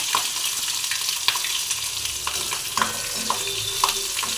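Green chillies, black cumin and mustard seeds tempering in hot oil give a steady, close sizzle, with scattered crackles and pops and light stirring throughout.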